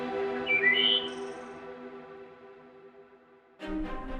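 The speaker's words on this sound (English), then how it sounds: "It's the song of a wood thrush." Wood thrush song in a natural outdoor setting: a few bright, flute-like phrases early on, moderately clear, followed by a brief louder burst of sound near the end.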